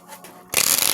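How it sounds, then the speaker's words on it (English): A deck of tarot cards is shuffled with a sudden burst of close, papery riffling and rubbing that follows near-silence and keeps going to the end. "I already shuffled these cards. Why am I shuffling anything?"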